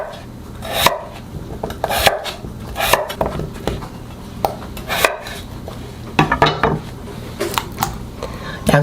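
Knife chopping onion into squares on a cutting board in a home kitchen while making braised potatoes, with irregular sharp taps and thuds spread across the clip, some clustered in quick runs.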